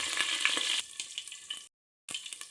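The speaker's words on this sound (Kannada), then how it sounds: "ಹಚ್ಚಿಟ್ಟ ಈರುಳ್ಳಿಯನ್ನು ಹಾಕುವ." Chopped onions dropped into hot oil with mustard seeds, sizzling loudly and crackling close up, then briefly cut off before the frying hiss resumes.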